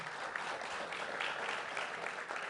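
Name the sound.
audience applause at press conference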